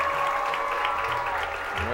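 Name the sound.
crowd applauding at high school homecoming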